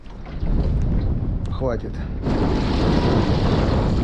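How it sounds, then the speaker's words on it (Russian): Strong, rising wind buffeting the microphone while fishing with set lines on open, high water, a steady broadband roar that swells louder partway through, with a brief spoken word from a man. "ветер все больше и больше усиливается"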